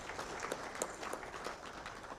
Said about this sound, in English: This deserves another round of applause.